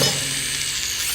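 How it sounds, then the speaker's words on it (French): Cartoon screwdriver whirring in an animated show, a brief high-pitched whine like a small power tool or dental drill, steady and close for about a second. "Tournevis."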